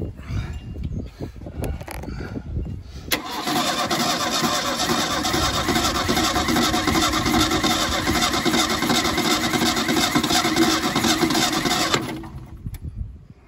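A 1977 Ford Mustang II engine, off the road since 1989, cranks over steadily for about nine seconds after some handling noises, a loud continuous churning starter whir that stops abruptly without catching.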